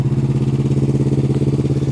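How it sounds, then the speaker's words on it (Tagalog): A motorcycle engine on a cold start, settling into a loud, close, steady idle with a fast rhythmic thumping pulse and no talking over it. "Ito yung motor. So, bali, start na natin, guys. Pa cold start lang natin."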